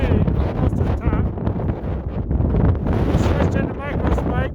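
Strong gusting wind buffets the microphone near the summit of Cascade Mountain in the Adirondacks in winter, a loud, rough, continuous roar, with a voice talking underneath.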